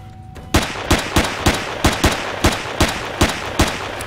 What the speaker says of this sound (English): Yeah, the cannon is going